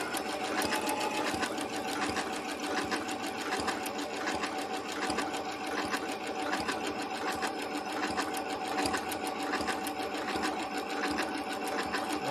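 A sewing machine stitches continuously at a fast, even rhythm, its needle mechanism chattering steadily and close up without a break.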